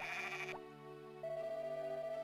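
A sheep bleating in the farming game Harvest Moon: Back to Nature, two short, tonal, quiet calls in quick succession, the second rising and more sustained, over soft game music.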